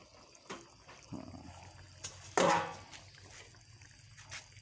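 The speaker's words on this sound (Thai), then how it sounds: "ให้มันท่วมๆครับราดน้ำไป" Water poured over a yonfish from the Mekong sitting in a pan of boiling water, heard as a few soft splashes and one louder, brief gush midway, with light kitchen clatter around it.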